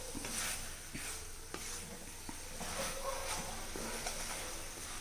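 Broiler chicken pieces coated in masala with chilli, coriander and turmeric are stirred in a pan, giving a steady low sizzle with soft scraping strokes of a spoon at irregular intervals, close and continuous, with no talking.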